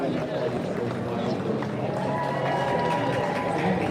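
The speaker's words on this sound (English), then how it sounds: "we got a nice little round of applause" A crowd claps for a street performer on the Royal Mile during the Edinburgh Fringe, a soft, steady patter of applause amid street bustle, with someone talking close by over it.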